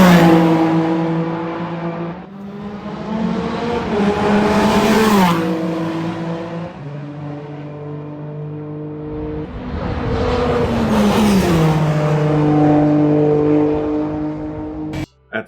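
Peugeot 9X8 race car running on its combustion engine: loud, close revving that climbs through gears in two long acceleration runs, each rising pitch dropping at the shifts, with no voices.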